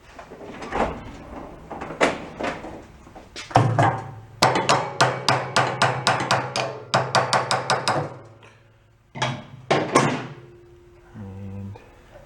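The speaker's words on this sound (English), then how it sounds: "Let's whack it with a hammer." A hammer strikes part of a junk snowblower in a rapid run of loud, close metallic whacks, with a few scattered knocks before and after the main burst and no talking.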